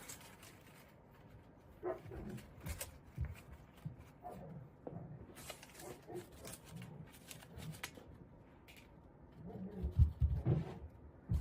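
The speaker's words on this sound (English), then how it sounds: "The dogs are having too much fun." Dogs play and bark indoors in bursts of growls, yips and scuffling, fairly faint and distant at first, then louder rough-play snarls near the end.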